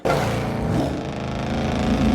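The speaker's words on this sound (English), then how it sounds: "we chase after the Joker in a cool-ass car" A car driving at speed during a chase in the Lego Batman video game, a loud continuous engine drone with steady revving that holds throughout.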